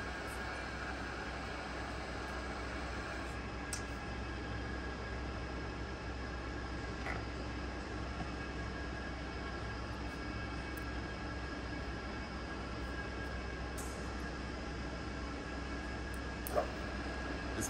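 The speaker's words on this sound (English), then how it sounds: "The spindle speed has been increased to 180 rpm. Increase the spindle speed." A TOS FNK 25A vertical turret milling machine runs steadily with its spindle turning at low speed, a continuous even mechanical hum and whir with no speech.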